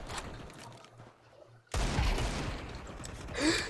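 Gunfire in the video game Counter-Strike 2, a player using a sniper rifle: after a quiet, murmuring stretch, a sudden loud blast lands and rings out, followed by sustained noisy game sound.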